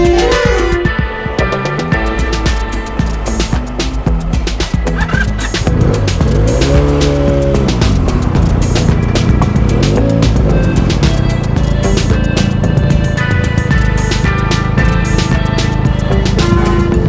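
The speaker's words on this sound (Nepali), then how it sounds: "यसरी स्कटिङ गरेर धमाधम चाहिँ गाडीहरू पास गरिरहेछ।" Vehicles overtaking and passing on the road between Khurkot and Kathmandu, loud engine and tyre noise, with a rising and falling horn-like tone sweeping past midway through a dense, constant traffic roar.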